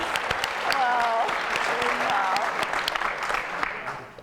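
Applause breaks out for a 12-year-old violinist, steady clapping across the whole stretch at moderate level, with a sustained musical tone and voices threaded through it.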